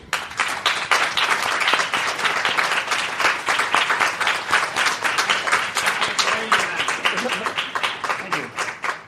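A live audience applauds loudly and steadily for the whole stretch, dense clapping welcoming a speaker onto a stage, with the cheering tailing off slightly near the end.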